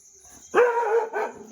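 A dog barks twice up close, a longer bark followed by a shorter one, in an otherwise quiet space.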